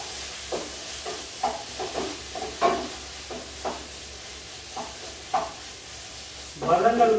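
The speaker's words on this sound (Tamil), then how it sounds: "வதங்கள் காண சத்தம் உங்களுக்கு தான் நம்ம கொண்டு வந்துட்டோம்" Soya chunks fry with sauces in a pan, giving a steady sizzling hiss broken by intermittent scraping stirs, with a louder clatter near the end and no talk.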